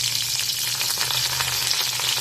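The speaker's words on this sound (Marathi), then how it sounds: "ठेचलेला लसूण" Crushed garlic hits hot oil alongside green chillies for a green chickpea curry tempering, producing an even, loud, unbroken sizzle heard up close over a low background hum, without any talking.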